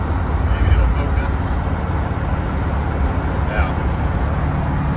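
Steady low road rumble and engine drone from a car cruising down the highway at around 60 to 65 mph, a constant interior roar with no clear breaks.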